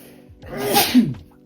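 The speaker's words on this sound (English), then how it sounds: "I'm just going to sneeze, sorry, bear with me." One loud, close human sneeze from a hay fever sufferer, with a short intake of breath building up to the sharp burst, heard alone without talk.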